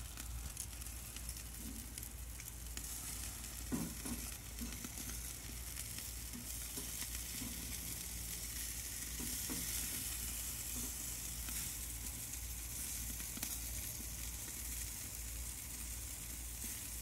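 Food fries and sizzles steadily in a pan over a fire, a continuous hiss with occasional stirring clatter, close and alone without talk.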